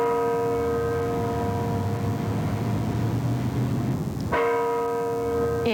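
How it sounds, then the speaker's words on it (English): Church bells tolling for Mother Teresa at the National Shrine of the Immaculate Conception in Washington, sustained ringing tones that fade over several seconds, then a fresh strike, heard at a distance over broad background noise. "bells tolled for Mother Teresa at the National Shrine of the Immaculate Conception"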